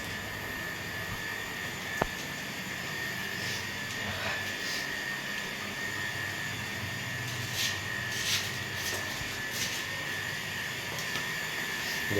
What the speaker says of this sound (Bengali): দেখুন এখানে মোটর চলছে